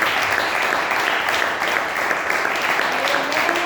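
Steady, dense applause from a church congregation, sustained clapping filling the whole stretch at an even level.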